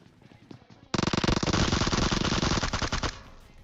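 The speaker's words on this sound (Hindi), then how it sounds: "थोड़ी सी गोलियां पेल रहा हूं, गोली खत्म हो जा रही है" Sustained automatic gunfire from PUBG Mobile, a loud dense burst of rapid shots lasting about two seconds after a quieter start, then trailing off.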